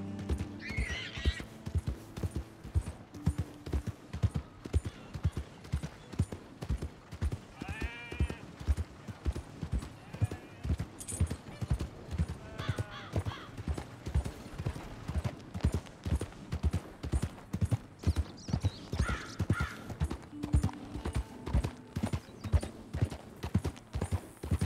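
Horse hooves clip-clop in a steady walking rhythm throughout in Red Dead Redemption 2, close and even, with occasional voices and animal calls over the top.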